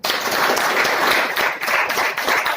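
Audience applause at a Modicare business seminar in India: dense, steady clapping from a crowded hall, loud and sustained throughout with no voice over it.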